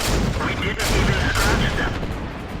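Cruiser IV tank cannon firing in a tank video game, two loud booming shots about half a second apart followed by rumbling battle noise, close and heavy.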